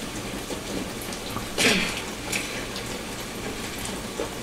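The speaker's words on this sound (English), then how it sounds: "It is raining hard over here." Heavy rain in The Last of Us Part II pours as a steady, dense hiss throughout, with a few brief louder splashes or bumps standing out over the constant downpour.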